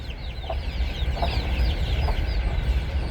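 Chickens, broody hens and chicks, cluck continuously close by, with bright rapid chatter over a low rumbling background.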